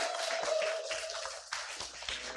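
A congregation claps during a Sunday service at a Korean church in Seattle, producing a brief, moderately faint patter of applause that swells and thins over a couple of seconds, with a steady sustained tone beneath.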